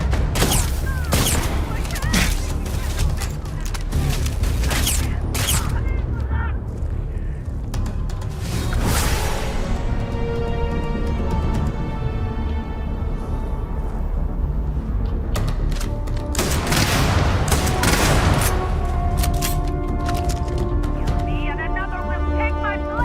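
Gunfire in a sci-fi shootout in Starfield, with sharp shots scattered through the clip and heavier bursts near the middle and toward the end, layered over constant game noise and music while a person talks.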